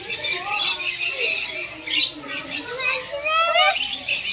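Several birds in an aviary cage at a bird park squawk and chirp repeatedly, harsh, close calls overlapping in quick bursts, with a person speaking over them.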